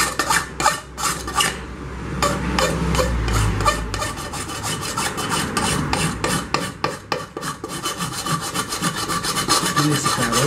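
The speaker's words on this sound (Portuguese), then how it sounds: "Vamos fazer um acabamento da lima." A metal file smooths a bump on a Crock 2.5 litre pressure cooker, producing loud, close rasping strokes in an uneven rhythm with a brief low thump partway through, and no talk.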